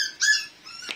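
Dogs squabbling in the background let out a brief high whimpering whine followed by a soft yip, fairly faint and alone.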